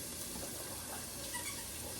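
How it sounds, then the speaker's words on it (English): Onions and peppers sizzle in hot oil in a pan, a steady close hiss and crackle running evenly throughout with no talk. "Get a nice little sizzle here."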